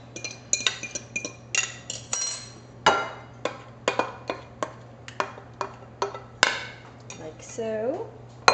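Spoon scraping and clinking against a bowl as wet and dry banana nut muffin batter are mixed, steady rhythmic taps close by, with a brief voice speaking under the clatter.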